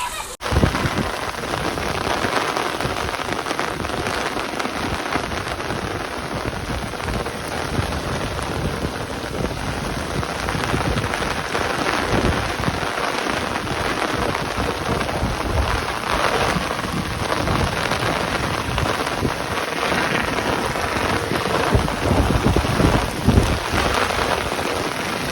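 Heavy monsoon downpour over farmland in the Gir region, a loud dense unbroken roar of rain hitting surfaces for the whole stretch, with low rumbles of thunder mixed in.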